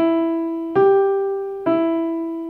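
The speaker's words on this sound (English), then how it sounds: "they would be played legato, which means smooth and connected" Three smooth, connected instrument notes played legato, each gliding into the next without a break, a clear sustained tone with rich overtones, solo and close with no voices.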